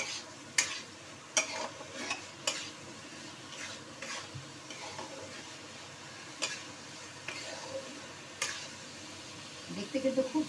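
A potato, pointed gourd and soybean curry being stirred and sautéed, with occasional spoon knocks against the pot over a soft steady sizzle and a cluster of scraping near the end.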